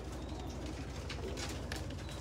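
Breeder pigeons in a loft in Faisalabad give soft low cooing, faint and steady, with light rustling throughout.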